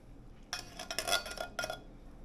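Turkey and broccoli casserole ingredients are stirred in a dish, with a short run of close metallic clinks and scrapes of utensil against cookware in a quiet kitchen.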